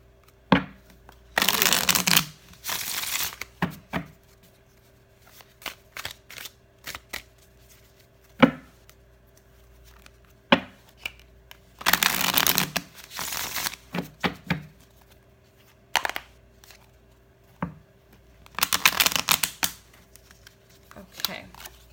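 Tarot cards are shuffled in several loud, crisp riffling bursts spread across the stretch, with softer taps and single card pulls between them while a voice talks quietly at times.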